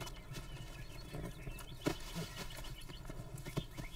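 Wild mustang mare and young colt moving outdoors, soft hoof clip-clops and rustling at a distance over steady background noise, with a couple of brief louder thumps.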